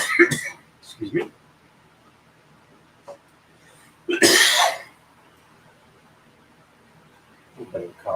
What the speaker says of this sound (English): little bit of a cough.